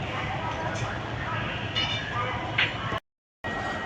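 Shantiniketan Express superfast train running from Howrah toward Bolpur, heard from inside an AC chair car: a steady broadband rumble and hiss of wheels and carriage throughout, cut by a brief dropout near the end.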